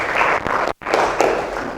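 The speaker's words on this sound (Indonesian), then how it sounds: "kita berikan tepuk tangan juga" Brief applause from a classroom of students during a teacher-training practice lesson, a short burst of clapping with a clean break in the middle before it resumes, fairly close and moderately loud.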